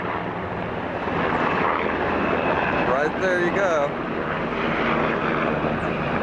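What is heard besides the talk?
low-flying military helicopter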